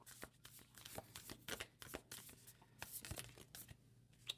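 A deck of Wild Unknown Archetypes oracle cards being shuffled by hand, giving repeated crisp riffling and slapping bursts at close range with no talking.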